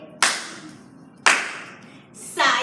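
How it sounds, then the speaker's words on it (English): Children in a jazz dance class for ages five to eight clap their hands in unison, sharp close claps spaced about a second apart with a third clap starting at the end, a faint voice murmuring between them. "Side together, side. Clap, clap."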